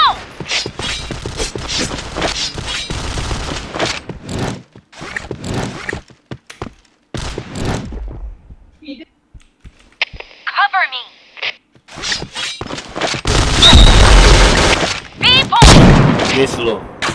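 Gunfire in a shooter video game comes as sharp, loud bursts of shots in several clusters, with pauses and mechanical clicks between them, while a player talks over the action.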